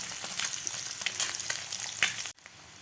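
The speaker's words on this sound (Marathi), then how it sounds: "आता आपल्याला खालची बाजू व्यवस्थित फ्राय करून घ्यायची आहे" An egg fries in a pan over medium heat for an egg chaat, giving a steady soft crackling sizzle with scattered sharp pops, fairly quiet and close, cutting out briefly near the end.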